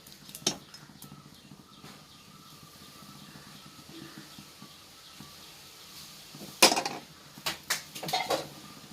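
Ghee-fried raisins go into a pot of green gram dal payasam amid scattered metallic clinks of a spoon against the vessel, sparse at first and then a brief cluster of louder taps near the end.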